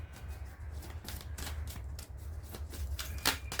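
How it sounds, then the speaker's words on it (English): Soft papery riffling of tarot cards being shuffled, a steady flurry of flicks and brushes with a slightly louder snap near the end, fairly close. "let's take another shuffle"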